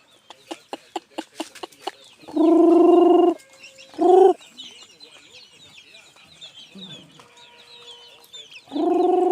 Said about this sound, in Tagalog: So, malaking manok dito.